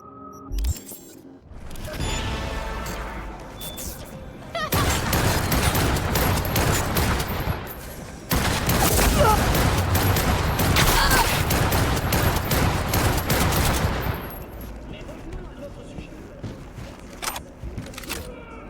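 Sniper rifle gunfire in the video game Cyberpunk 2077, a loud, dense run of sharp shots and bursts filling the middle of the clip, with quieter game ambience before and after.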